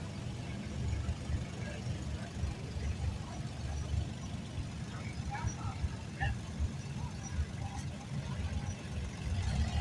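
A 1947 Case tractor rolls past in a pioneer farm show parade, its engine a low steady rumble close by beneath an announcer's voice and outdoor crowd noise.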